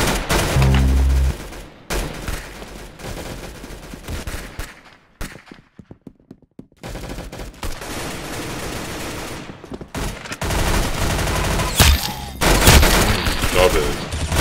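Gunshots in the Arsenal video game ring out in loud bursts and single cracks, broken by a short quieter gap and then a return of heavy firing.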